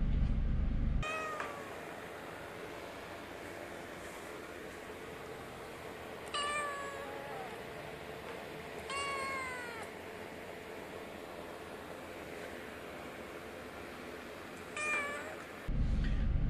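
A cat meows several times, a handful of rising and falling calls spaced seconds apart over quiet background hiss.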